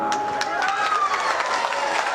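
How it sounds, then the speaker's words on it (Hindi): A crowd claps at a BJP election campaign rally in Lanka, a scattered, moderately loud patter under a man's amplified speech. "अब थोड़ा ताली मारे हैं अच्छे से"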